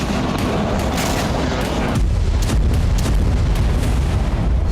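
Missile and drone strikes on Sevastopol Bay produce dense, roaring blasts and crackling bursts, with a heavier deep boom halfway through that leaves a loud, continuous rumble.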